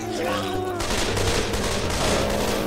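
Gunfire from Left 4 Dead 2 aimed at a jockey: a sudden loud burst of rapid shots starts partway in, then continues as a dense rattling volley to the end, with some game music or tones beneath.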